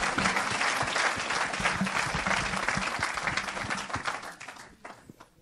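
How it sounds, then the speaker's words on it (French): A church audience bursts into sustained applause for their preacher, dense and continuous clapping at full strength that gradually tapers off in the final second. "Il mérite les acclamations, notre maître"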